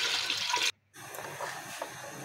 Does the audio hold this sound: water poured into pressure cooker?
yes